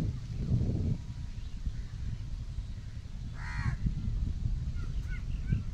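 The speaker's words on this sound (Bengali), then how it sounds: "কতগুলো পাখি আছে বসে।" Crows in a tree beside flooded farm fields give one short, raspy burst of cawing partway through, set against a steady low outdoor rumble with faint distant calls.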